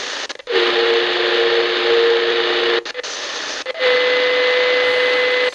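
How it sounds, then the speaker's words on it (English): A Baijiali BJL-671 AM FM shortwave radio being tuned gives off steady whistling birdie tones over loud hissing static, cut off by brief gaps as the dial moves. "There's some birdie tones here and there you'll hear."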